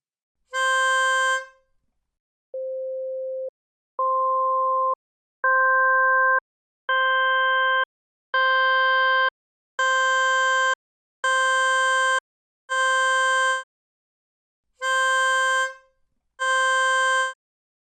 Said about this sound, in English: I generate sine waves with these numbers. Let's listen to the result of gradually adding components.